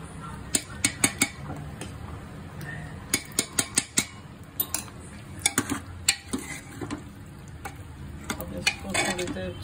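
A spoon scrapes and clinks repeatedly against a pressure cooker pot while halwai-style gravy stirs and sizzles softly, in an irregular rhythm of sharp taps.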